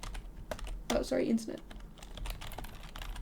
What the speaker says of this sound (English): apologies if that typing was super loud